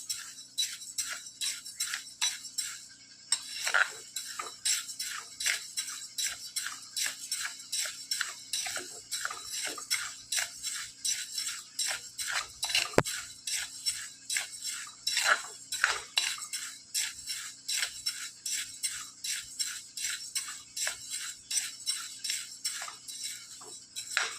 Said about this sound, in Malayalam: ചൂടായ ചട്ടിയാണ്. നന്നായിട്ട് ഇളക്കി കൊടുക്കാം.